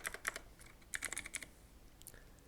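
Computer keyboard typing while entering a search for Windows Update settings: scattered quick key clicks in short bursts, faint and alone.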